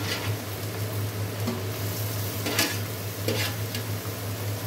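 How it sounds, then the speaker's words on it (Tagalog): Previously boiled chunks of meat hiss and sizzle in a hot pan, a steady close frying noise with a few scrapes and stirring clatters, no voices. "lalagay ko na ang karne na napakuluan ko na kanina"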